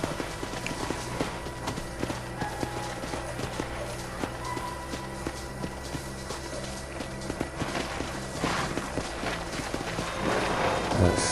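Horses walk along a trail in the Red Dead Redemption 2 video game, their hooves clip-clopping steadily and continuously at a moderate volume, with ambient outdoor game sound underneath and no talk.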